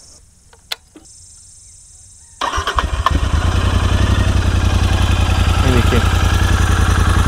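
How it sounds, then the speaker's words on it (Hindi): A Royal Enfield Interceptor 650 motorcycle, about two years old with 21,000 km on it, starts up after a quiet moment and settles into a steady, loud, close idle through its exhaust silencers while someone says a word at the start. "साइलेंसर का आवाज़ आपको सुनाया, बहुत ही प्यारी है"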